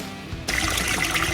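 Cool water runs over a bag of steeped grains and drains into a pot of grain tea while brewing German beer, beginning abruptly as a steady close trickle and splatter after a brief quiet moment.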